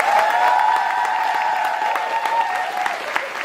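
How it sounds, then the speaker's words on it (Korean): Audience applause at the final curtain call of a Korean musical, dense sustained clapping from a large crowd. A sustained tone sounds faintly within it. "우리 박창민 작가님, 이정현 작곡가님, 우진하 연출님, 김은총 안무 감독님, 이 창작진들에게도 깊은 박수 부탁드리겠습니다."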